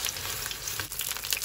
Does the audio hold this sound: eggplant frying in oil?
yes